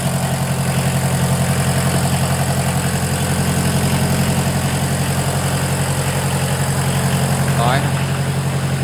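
A Kubota 3202 tractor's engine idles steadily with an even low throb and a fast regular pulse, loud and close, running on its own.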